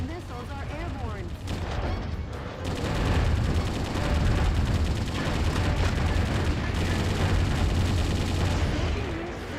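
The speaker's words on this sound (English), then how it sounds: "The missiles are airborne." Missile launches and heavy weapons fire in the video game Metal Wolf Chaos, a dense continuous barrage of booms and blasts that swells louder after the first few seconds, with a voice speaking over it early on.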